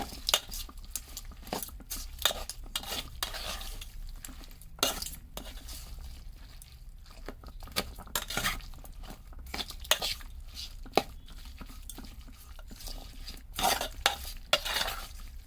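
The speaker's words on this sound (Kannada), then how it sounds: "ಅರ್ಧ ಕಪ್ಪಷ್ಟು ರವೆ, ಉಪ್ಪಿಟ್ಟು ರವೆ ಎಲ್ಲ ಹಾಕಿ ಚಲೋ ತಂಗೆ ಮಿಕ್ಸ್ ಮಾಡ್ಕೋಬೇಕು." Rava mixed with garam masala and a little oil is stirred in a pan, making repeated close scraping and clattering strokes over a faint sizzle.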